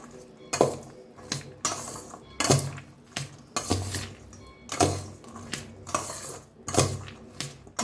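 Chaat ingredients with mint and coriander are tossed and mixed in a bowl with a spoon, giving repeated close clinks and scrapes in an uneven rhythm.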